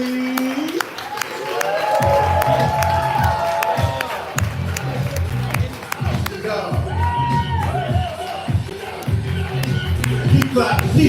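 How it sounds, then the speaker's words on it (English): A poetry slam crowd cheers, whoops and claps in a steady rhythmic beat, with a loud voice shouting over the rhythmic clapping throughout. "Keep clapping, keep clapping, keep clapping"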